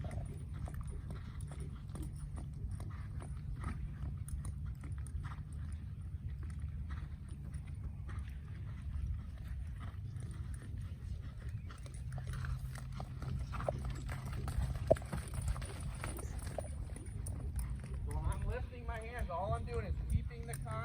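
A horse trots during a training session, its hooves a steady, distant clip-clop rhythm under a quiet outdoor background, with people talking through much of it.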